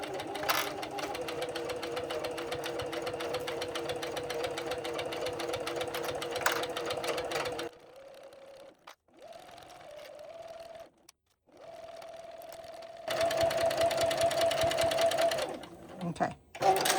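Domestic sewing machine stitching a seam on a boxy bag, a loud steady mechanical whir that stops, gives way to short pauses and softer runs, then resumes at full speed.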